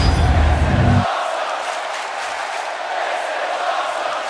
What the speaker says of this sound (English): The crowd chants, "This is awesome,"